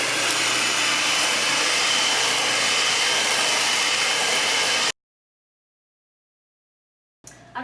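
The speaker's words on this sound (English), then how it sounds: "we're going to go ahead and use the mixer and mix all these together now" An electric mixer beats cookie dough with a steady, loud whirring drone for about five seconds, then cuts to silence before a brief new sound at the end. There is no talk.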